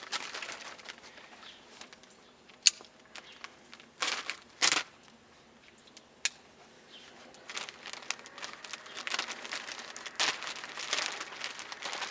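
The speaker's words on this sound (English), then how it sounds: "So let me get this open here and we'll get started." A plastic bag of stir fry vegetables is torn and pulled open, giving sharp crinkles and crackling rustles in uneven bursts, close and fairly loud, with no talking.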